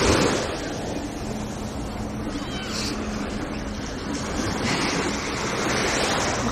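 Sea waves wash continuously onto Afitis beach in Jijel, a broad, steady surf roar with gentle swells, heard close and loud with no voices.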